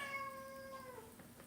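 An indoor house cat gives one drawn-out, tonal meow that bends downward near its end, steady and moderately close, with only faint room noise behind it and no talk.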